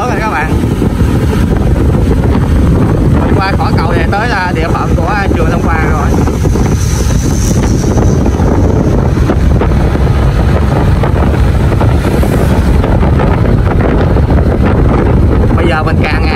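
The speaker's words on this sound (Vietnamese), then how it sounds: "thấy bắt đầu có gió là lớn rồi các bạn" Strong wind buffets the microphone on a bridge near a wind farm in Trà Vinh, a steady loud roar under someone talking throughout.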